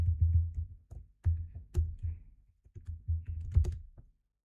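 Typing on a computer keyboard during coding work, with quick bursts of clicky keystrokes broken by short pauses, close and fairly loud with no voice over them.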